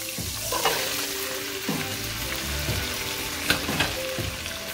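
Celery and onions sizzle in a hot pan for a fish soup, a steady close crackle broken by a few scraping stirs and clinks of a utensil against the pan.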